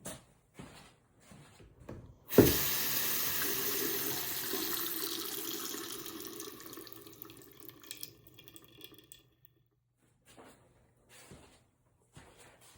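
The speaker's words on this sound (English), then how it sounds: "find the closest fixture or the lowest point to turn on the hot side of a faucet so you can release the pressure" Hot water from a faucet, opened to release pressure during a water heater install, bursts into a steady hiss that fades gradually over several seconds before stopping, with faint knocks after.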